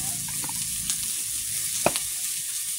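Shol fish pieces seasoned with salt and turmeric fry in hot oil, sizzling steadily and close up, with a few stirring scrapes and one sharp crackle.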